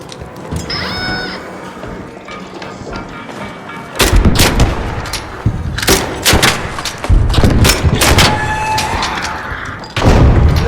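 Gunfire in the shooter game Arc Raiders: sharp, loud bursts of shots and booms, first sparse, then dense rapid volleys from around four seconds on, with mechanical clatter between bursts.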